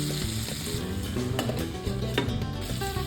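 Chicken tikka resha kabab fries in a pan with a dense, crackling sizzle that carries on unbroken, with occasional faint clinks nearby.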